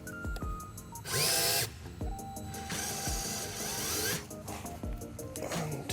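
Power drill removing a screw from the underside of an Aerostar airplane found in a barn, with two loud whirring bursts at close range amid clicks, clanks and handling noises.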